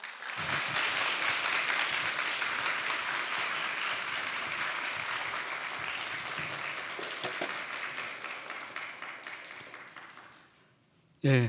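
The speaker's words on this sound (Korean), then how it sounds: "큰 박수로 마음을 담아서 환영해 주시기 바랍니다" A church congregation at a Sunday service gives loud, sustained applause welcoming a visiting pastor to the front, fading out near the end before a brief louder sound.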